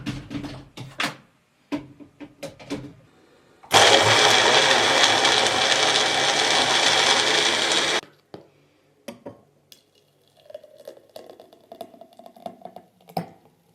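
A mixer whirs loudly and steadily for about four seconds as water and powder blend into a drink, set apart by softer clinks and handling noises before and after.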